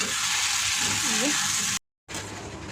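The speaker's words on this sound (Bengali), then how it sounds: "আর এবার দেখো শাকটা আমার ভাজা হয়ে এসেছে" Leafy greens (shak) fry in a pan with a steady broadband sizzle, close and continuous, briefly cutting out before resuming, while a voice talks over it.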